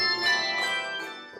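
A six-octave set of handbells rings out with sustained, shimmering tones overlapping one another, a few fresh strikes blooming over the lingering resonance.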